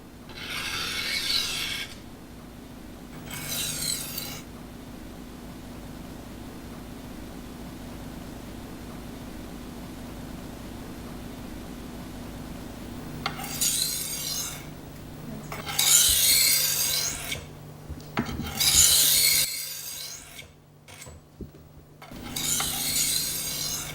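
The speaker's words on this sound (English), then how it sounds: "Remove the guide and begin sharpening." A European-style knife scraped in rhythmic strokes across a Norton sharpening stone, giving bursts of gritty rasping separated by pauses, close and moderately loud over a low steady hum.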